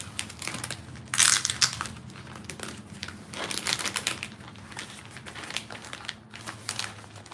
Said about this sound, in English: Pull this out of here. All taped up in this